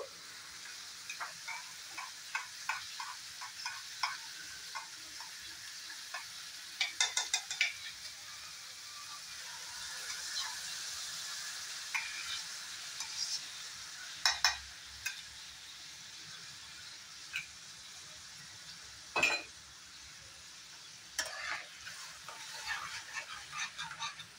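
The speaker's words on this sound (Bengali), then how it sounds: "এখন আমি এখানে দিব আরেকটা জিনিস, ফেটিয়ে রাখা একটু দই দিয়ে দেব" Beaten yogurt stirred into a hot pan with softened tomato for egg masala, a steady sizzle broken by repeated clicks and scrapes of a spoon against the pan.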